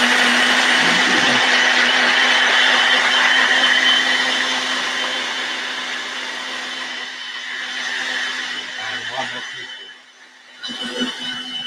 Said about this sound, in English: Here comes the blender.